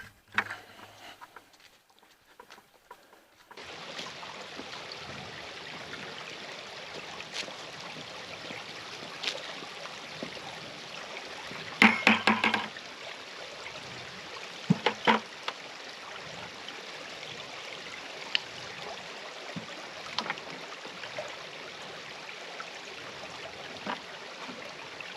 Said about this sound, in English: go down to the creek, find an area where the water is moving